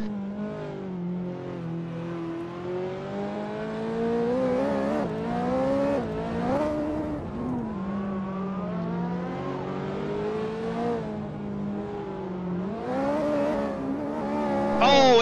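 A Ferrari race car in a racing game, heard from inside the cockpit, with the engine revving up and down through the gears in a steady, close, rising and falling whine and a few sharp throttle blips.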